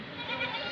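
A goat bleats once, a short wavering call heard close up among a herd of goats with kids being offered for sale, with a low background hum.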